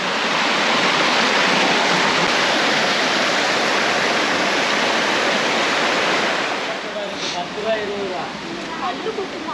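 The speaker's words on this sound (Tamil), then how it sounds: "தண்ணி ஃபுல்லாக வந்துகிட்டே இருக்குங்க." Water flows strongly down a rocky stream on the Azhagar Malai trek near Madurai, Tamil Nadu, a loud continuous rush that eases slightly toward the end, where faint voices come through.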